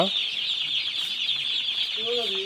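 Broiler chicks on a new poultry farm with about 1600 birds, a dense, steady chorus of high peeping and soft clucking filling the shed, close and continuous, with a brief low murmur of voices near the end.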